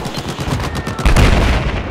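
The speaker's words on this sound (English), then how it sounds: "DMRs have the worst noise when you're being shot at." Rapid DMR rifle gunfire in Battlefield 4 on the Altai Range map, a dense run of sharp cracks with heavier booming shots in the second half, loud and close as if incoming.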